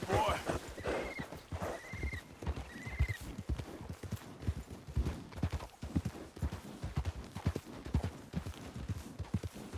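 Horses on a wilderness trail ride whinny in several rising calls early on, while steady clip-clopping hooves beat throughout, close and fairly loud.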